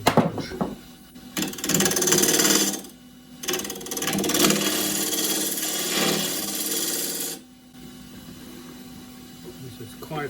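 A wood lathe turning hard, old, dry camphor laurel at 1250 rpm with a spindle gouge, giving loud scraping, rasping cuts in long bursts separated by brief pauses.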